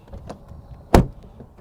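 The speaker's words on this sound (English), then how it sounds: "Door open and close sound from the outside" Door of a 2021 GMC Yukon Denali diesel SUV heard from outside: a faint latch click as it opens, then a single solid thud as it shuts, short and close.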